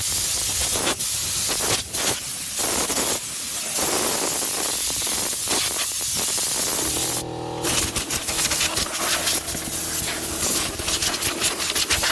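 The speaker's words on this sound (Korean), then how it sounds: "에어로 불면 되겠네" A steady loud hiss of compressed air blowing continuously, with a sharper rushing blast partway through and faint mechanical hum underneath.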